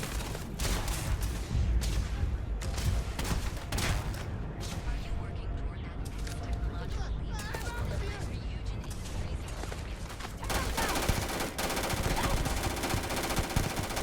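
Rapid, sustained gunfire from a gun in the Starfield video game, dense automatic bursts rattling almost continuously throughout with a brief lull midway, while a person talks over the shooting.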